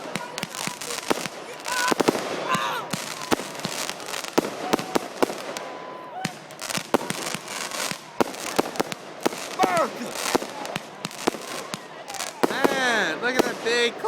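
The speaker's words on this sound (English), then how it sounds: "firecrackers." New Year's fireworks and firecrackers at an outdoor celebration: a dense, continuous barrage of sharp cracks and pops with whistling, fizzing bursts near the end, loud and close, with people talking and shouting throughout.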